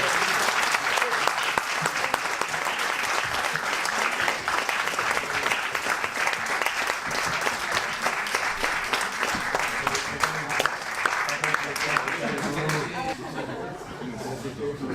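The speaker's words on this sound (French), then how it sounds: "Vous pouvez les applaudir." Audience at the closing of a short film festival applauds the award winners, a dense, steady wash of clapping that fills the whole stretch and thins slightly near the end, with a voice and murmuring mixed in.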